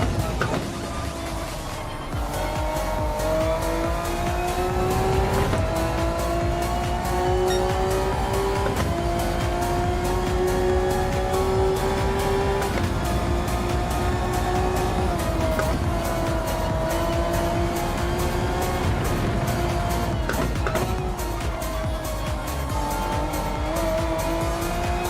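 A GT race car in an All-Japan GT Challenge racing video game, understeering through corners, drones loudly and steadily for the whole stretch, its engine pitch climbing and dropping with gear changes while tires squeal underneath, with no voices.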